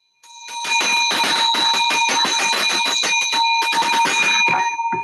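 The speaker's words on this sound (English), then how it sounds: "Yes, I can hear the bell, Jalen" A bell rung by a young person during a remote church worship service sounds as steady, loud, rapid ringing with sustained metallic tones, continuing for about five seconds with no talking.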